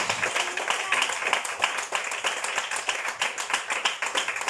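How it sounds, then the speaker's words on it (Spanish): A church congregation claps together in a rapid, fairly even rhythm, loud and close, sustained for several seconds with a murmur of voices beneath. "Denle un aplauso al Señor"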